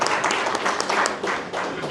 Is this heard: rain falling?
no